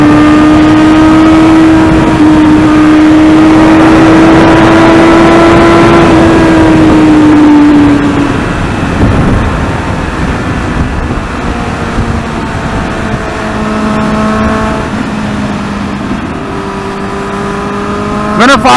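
Kawasaki Z800 inline four-cylinder motorcycle on a highway, a loud smooth exhaust note holding a steady rising tone, then dropping back and climbing again as the engine revs through gears, with wind rush throughout.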